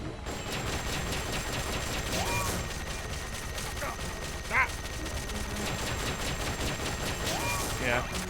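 Bursts of rapid gunfire in a Metal Gear Solid game, fairly faint and mixed under a busy game soundscape, with a few sharper shots and clanks standing out.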